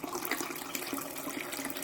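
Hot water pouring into a pot of lima beans, a steady close splashing rush of moderate loudness with no talk.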